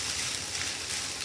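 Curry leaves hit hot oil in a pan and sizzle with a loud, close, crackling hiss that holds steady for a moment.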